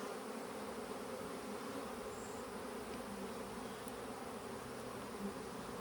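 Honey bees buzz steadily around an open hive during queen rearing, a constant dense drone with no pauses, close and moderately loud, with no voices.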